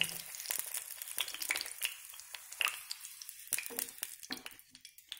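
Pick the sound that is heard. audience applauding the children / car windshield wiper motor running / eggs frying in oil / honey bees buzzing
eggs frying in oil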